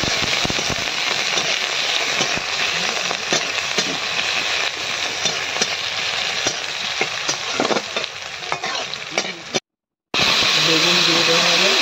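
Chopped onions and green chillies sizzle steadily in hot mustard oil during village cooking, with a loud, dense crackle and spatter throughout and a brief cut near the end.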